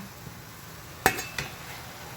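A lid is set onto a pan of washed sweet potato tops (camote tops) on the stove, giving a single close metallic clank followed by a smaller rattle, with quiet kitchen background otherwise.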